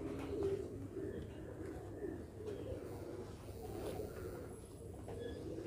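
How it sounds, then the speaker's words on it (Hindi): Soft, low cooing of Shahjahanpuri pigeons continues throughout, faint and somewhat distant, over a steady background murmur with occasional chirps. "अभी कुरीश कर रहे हैं कबूतर ये सब कुरीश में"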